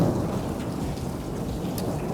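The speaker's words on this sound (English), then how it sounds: "some crazy lightning and thunder right now" A thunderstorm outdoors, with steady heavy rain hissing on surfaces and a low rumble of thunder rolling underneath, continuous and fairly loud with no voices.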